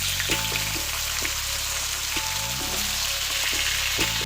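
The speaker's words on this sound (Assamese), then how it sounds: "ইয়াতেই মই অমিতাখিনি অলপ ভাজি ল'ম।" Papaya pieces frying in leftover fish-frying oil, a steady dense sizzle and crackle holding at close range throughout, with a faint low hum underneath and no talk.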